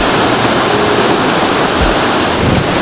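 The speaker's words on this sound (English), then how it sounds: "there is some kind of a waterfall here" Waterfall at Helton Creek Falls in North Georgia, a loud, steady broadband roar of rushing, crashing water filling the whole scene from close by, with no voices.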